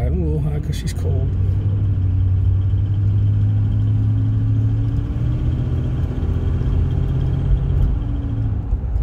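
A 1992 Buick Roadmaster idles while still cold, giving a steady, loud low rumble with a faint higher whine. A brief clatter opens the sound, and the drone then holds unchanged throughout.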